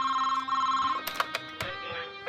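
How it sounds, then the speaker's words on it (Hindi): A telephone rings with a steady electronic tone, followed by a few sharp clicks and clatters. "मधु जी के फोन करा।"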